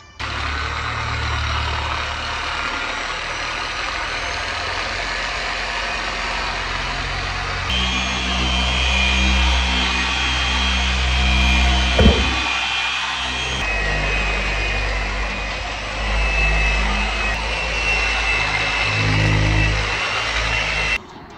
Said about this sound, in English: I'm going to grab the buffer. I'm going to go around and just kind of buff out 4 panels real quick